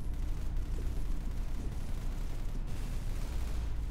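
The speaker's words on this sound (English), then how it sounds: "I just hear a bunch of gunshots." Dense, continuous gunfire and explosive bursts fill the clip without pause, a loud chaotic barrage of shooting in the video game Arsenal with no talking.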